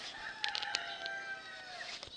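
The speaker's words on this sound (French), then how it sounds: "Il y aura le chant du coq" A rooster crows outside an open window, one long drawn-out call heard at moderate distance over a quiet background, with a few brief clucks mixed in.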